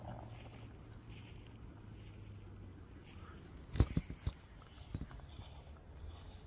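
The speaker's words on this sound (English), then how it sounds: "Never mind, it really was footsteps." Footsteps in a forest as the sun sets: a few quiet, uneven steps cluster near the end over a steady low background hum, with no voices.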